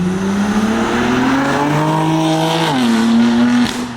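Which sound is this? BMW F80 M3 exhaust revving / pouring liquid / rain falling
BMW F80 M3 exhaust revving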